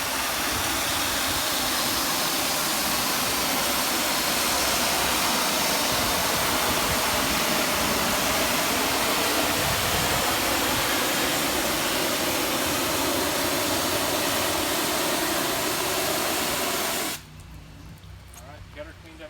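A pressure washer blasts water onto a house gutter and flat metal fascia, a loud, steady hissing roar that runs unbroken for many seconds, then cuts off abruptly near the end, leaving a quiet background.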